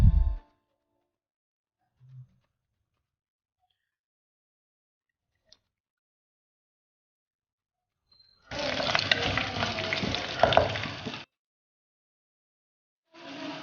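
Crushed ginger and slit chillies sauté in a pan for a Kerala tuna fish curry, making a close, steady sizzle that bursts in for about three seconds and then cuts off, with long silent stretches and a brief return at the end.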